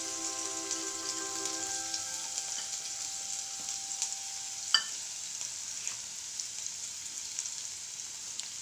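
Crushed garlic fries in about two big spoonfuls of oil in a kadhai, giving a steady soft sizzle with light crackle and one sharp tap midway, no voices.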